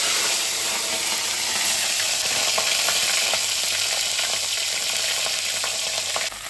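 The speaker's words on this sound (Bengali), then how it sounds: "এবার আমি ফুলকপিটা ভেজে নেব, ঠিক মাছের মতো করে খুব ভালো করে ভেজে নিতে হবে।" Cauliflower frying in hot oil in a pan after fish, a dense steady sizzle with crackling and occasional stirring, close and continuous with no speech.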